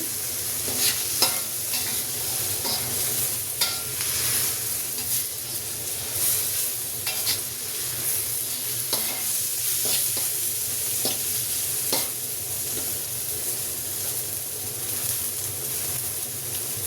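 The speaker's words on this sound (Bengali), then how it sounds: "চিকেনটা পাতলা পাতলা করে কাটা, এটা সিদ্ধ হয়ে গেছে। তারপর আমি আরেকটু এটাকে ভেজে নিচ্ছি।" Thinly sliced boiled chicken frying and being stirred in a pan while making noodles, a steady close sizzle with scraping stir strokes throughout and no talking.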